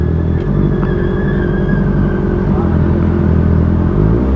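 A 2018 Honda CB650F four-cylinder motorcycle with a 2.5-inch slip-on exhaust gives a loud, close, steady engine rumble with a smooth, even drone throughout.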